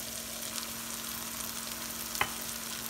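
Tomato and onion sizzle in a pan for a crab roast, a faint, steady frying hiss with one brief clink of a spoon.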